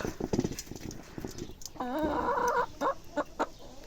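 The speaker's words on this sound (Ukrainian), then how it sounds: "прийшла красна курка і з дзьоба збирала" A chicken gives a short run of clucks amid shuffling and scattered farmyard noises nearby in a Ukrainian village, with faint movement sounds around it.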